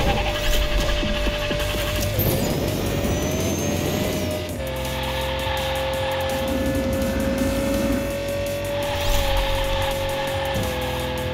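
A toy race car in the Hot Wheels Unleashed video game, driven in a Time Attack run, whines with a high engine tone that rises and shifts pitch as it speeds along, with a few abrupt gear-like changes and no talking.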